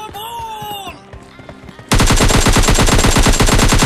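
Automatic gunfire from the video game PUBG Lite bursts in loud and rapid after a brief tonal game sound, sustained fast shots filling the end.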